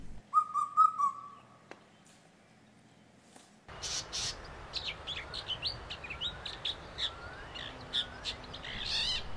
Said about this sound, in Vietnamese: nhiều chàng chim trống cất cao giọng hót để mời gọi bạn tình